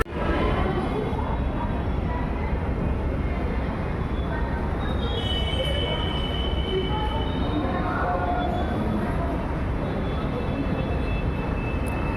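Metro train at Karunamoyee station in Kolkata, a loud, continuous rumble with high wheel squeals and whines drifting in and out, close and sustained throughout.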